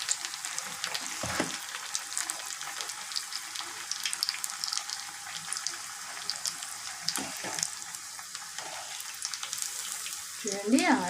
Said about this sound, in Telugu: చూడండి, ఆయిల్లో చాలా చక్కగా ఫ్రై అవుతుందండి.